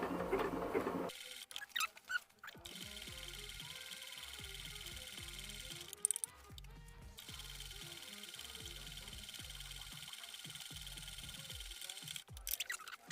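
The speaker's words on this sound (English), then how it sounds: "zigzag stitching around the edge. Okay, I'll just slow that down a little bit, and this just prevents fraying." A sewing machine runs zigzag stitches along the edge of upcycled men's trousers, a steady rapid mechanical chatter that pauses briefly and slows partway, close and fairly loud.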